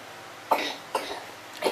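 A wet cough with phlegm: three short, rough coughs, the first two about half a second apart and a third just after, close and fairly loud with no talk.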